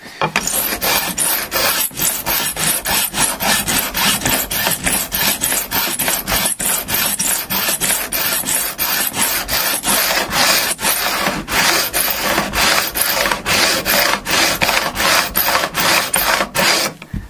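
Guitar fret ends on a Squier Standard Stratocaster being filed during a refret. A steady, loud rasping stroke repeats continuously and evenly throughout, with no talking.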